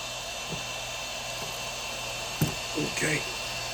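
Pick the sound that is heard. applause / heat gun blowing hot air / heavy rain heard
heat gun blowing hot air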